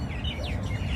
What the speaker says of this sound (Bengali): পাখির কিচিরমিচির শোনা যাচ্ছে